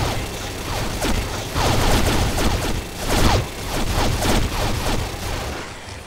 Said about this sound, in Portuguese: cada minigun dele tem 1000 balas